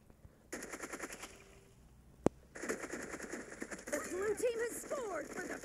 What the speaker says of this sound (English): So first gun is a Thompson.